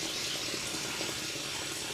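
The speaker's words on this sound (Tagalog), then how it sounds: "May tubig pala dito na malaki." Spring water flows and splashes steadily and continuously from a hilltop spring, a close, even rushing stream with no voices.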